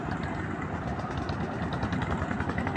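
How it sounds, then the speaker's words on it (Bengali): Boats at a busy riverside boat landing give a steady, moderate engine drone and rumble, with a noisy outdoor bustle layered over it throughout. "এই দেখেন নৌকা আসা যাওয়া করতেছে।"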